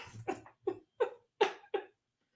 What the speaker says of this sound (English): A cute little chihuahua.